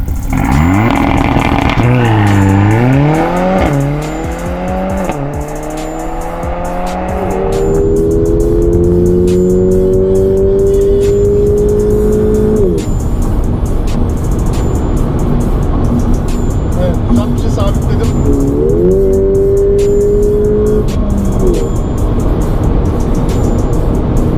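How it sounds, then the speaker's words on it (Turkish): A Mercedes-AMG A45 launches in a drag race against a Porsche 911 Carrera 4, its engine revving loudly through rising gear pulls with distinct upshift drops, sustained close-up roar and road noise over about twenty seconds. "Buradan sıfırdan başlıyorum. 160 e, km saat sürete çıkıyorum."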